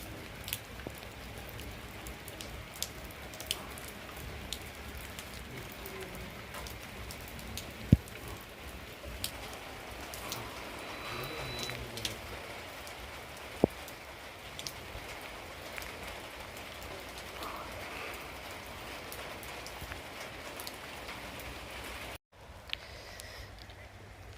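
Steady unseasonal rain patters down on farmland in a dense, even hiss, with a few sharper drips and knocks standing out now and then.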